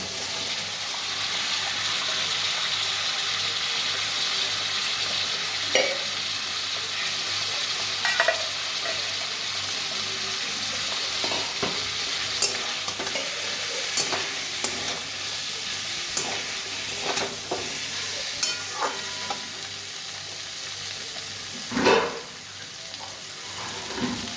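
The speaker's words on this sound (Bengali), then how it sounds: "ফুলকপি আলু দিয়ে দিচ্ছি" Cauliflower and potato pieces frying in a pan, a soft steady sizzle under scattered stirring scrapes and knocks that grow busier and louder toward the end, with no talking.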